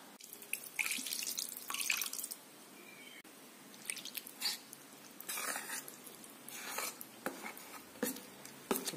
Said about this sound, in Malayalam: ഇനി കുറച്ചുകൂടെ വെള്ളം ചേർത്ത് ലൂസാക്കും.